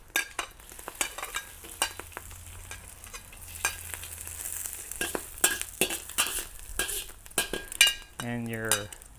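Garlic stir-frying in a wok with ginger and egg, a soft sizzle under repeated scraping and clinking of a utensil against the pan, close and fairly quiet, ending with a short rising tone.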